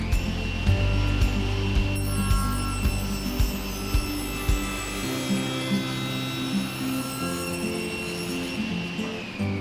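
A table saw cuts a tenon in a wooden board, with a loud sustained whine and a deep droning motor, rhythmic knocks in the first half as the board feeds through, then the low rumble drops away while the blade keeps spinning.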